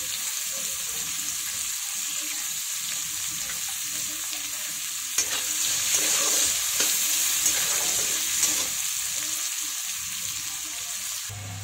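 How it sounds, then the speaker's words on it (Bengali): Green beans stir-fry in a pan for chicken egg fried rice, a steady sizzle and hiss with scraping stirs of the spatula, close up and without talk. "এখানে বিনসটা দিয়ে দিলাম, বিনসটা একটু ভাজা ভাজা হবে"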